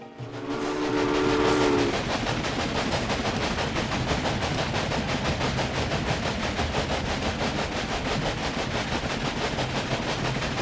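A train from the video game Railway Empire runs steadily along a rail line, a dense continuous rumble with rhythmic clatter, opening with a brief horn-like tonal blast in the first two seconds.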